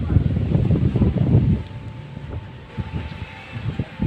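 Wind at a seawall buffets the microphone in heavy gusts, strongest at first, then easing into a lighter rushing noise.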